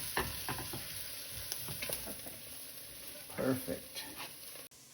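Vegetables lightly frying in a pan give a steady close sizzle, broken by stirring scrapes and clinks, while a voice talks briefly over it.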